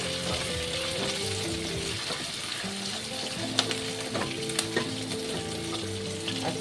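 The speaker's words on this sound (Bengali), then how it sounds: "দেখো পেঁয়াজটা হালকা হালকা" Steady sizzling of onions frying in a pan, continuous and close, with occasional stirring clinks and a low hum underneath; no one speaks.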